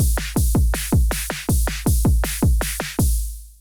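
Electronic drum pattern with a hi-hat struck on all four quarter notes, looping steadily over punchy kick hits at a fast tempo, loud and alone with no talking.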